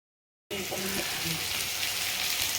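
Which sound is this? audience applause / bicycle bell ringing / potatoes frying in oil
potatoes frying in oil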